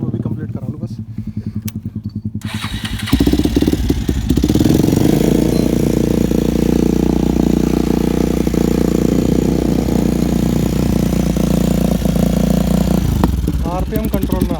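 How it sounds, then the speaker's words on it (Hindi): A stunt motorcycle fires up after a fresh spark plug, first clattering faintly, then catching at about three seconds into a loud, steady idle that drones on with people talking nearby. "स्पार्क प्लग हो गई चेंज, करते हैं चलो चालू।"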